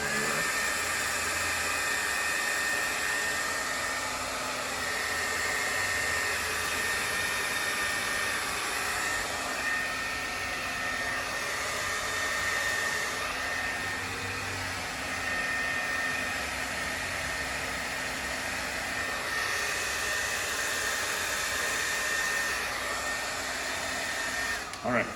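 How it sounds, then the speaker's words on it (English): A handheld blow dryer runs steadily at close range while a man's ballroom hairstyle is set with hairspray, a loud constant whooshing hum lasting the whole stretch with no talk over it. "back to my blow dryer"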